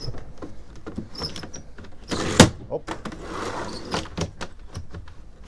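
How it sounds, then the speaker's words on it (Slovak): Split door of a camper van being opened and adjusted, with a series of close clicks, knocks and sliding rattles, one sharper clack in the middle, and a voice talking softly over it. "Tu sú delené dvere, ktoré sa vlastne dajú takto spraviť"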